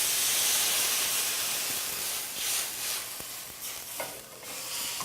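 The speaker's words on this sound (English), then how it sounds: "we're going to try to get all this beautiful caramel off the bottom of the pan with a little bit of wine" A pan is deglazed with wine while cooking shawarma, giving a continuous close hiss and sizzle with scraping, stirring sounds and no talking.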